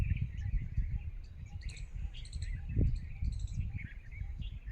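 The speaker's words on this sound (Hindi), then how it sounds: "चिड़ियों का गायन" Birds sing outdoors with faint, scattered high chirps and tweets over a low background rumble, and no one speaking.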